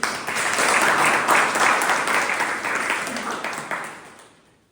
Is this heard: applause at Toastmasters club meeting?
yes